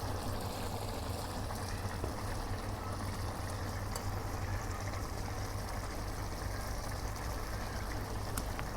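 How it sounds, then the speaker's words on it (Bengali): Rice boiling in a biryani pot cooked with Eid sacrifice beef, a continuous bubbling, hissing simmer that stays even and close throughout with no talk. "চালটা ফুটে আইতেছে"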